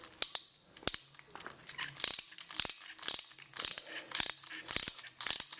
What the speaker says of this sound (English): You have to take the screw here out.